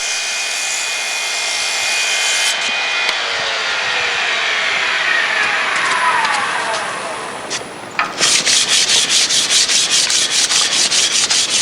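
Sandpaper is pressed against a workpiece spinning on a lathe at 3,200 RPM, making a loud, continuous rubbing whine that shifts in pitch. Near the end it turns into a rapid, pulsing rasp.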